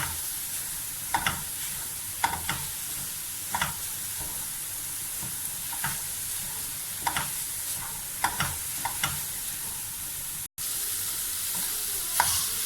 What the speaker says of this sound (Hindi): हरी मिर्च, शिमला मिर्च, और इसको अच्छी तरह से भून लेंगे।